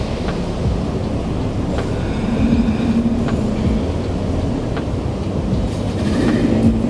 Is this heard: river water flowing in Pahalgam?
no